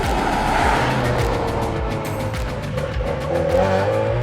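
A Prodrive P25 Subaru Impreza on a race track, its engine revving hard through repeated gear changes with rhythmic pops, loud and close throughout with no talk.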